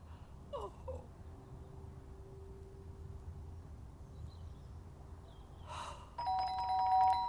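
A doorbell chimes once near the end, a bright two-tone electronic ding-dong over low background rumble, with a faint earlier murmur.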